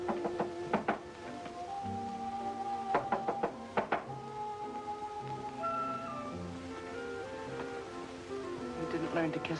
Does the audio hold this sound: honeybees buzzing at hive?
no